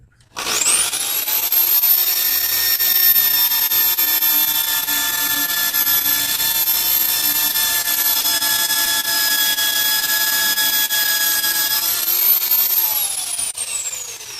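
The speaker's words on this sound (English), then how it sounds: "I'm not sure you have to drill these holes." A loud, sustained high-pitched whine of a drill boring into wood runs steadily for several seconds, then winds down at the end.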